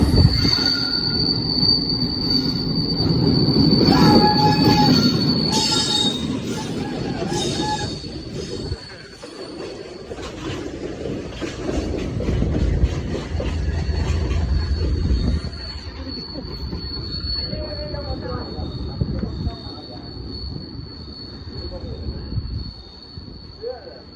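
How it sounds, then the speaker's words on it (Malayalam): A train rolls past nearby in Punalur, Kerala, with loud rumbling and a sustained high metallic wheel squeal, the noise swelling and fading over about twenty seconds. "ട്രെയിൻ വരുന്നുണ്ട് ട്രെയിൻ വരുന്ന കാഴ്ചകൾ കാണുന്നത് അടിപൊളി"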